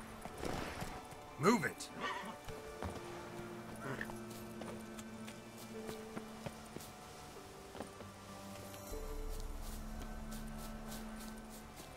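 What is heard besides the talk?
Geralt's horse Roach galloping in Witcher 3 video game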